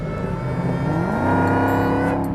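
A Dodge Challenger Hellcat's 707-horsepower engine revs loud and close, a steady deep roar that climbs in pitch partway through and holds at the higher note.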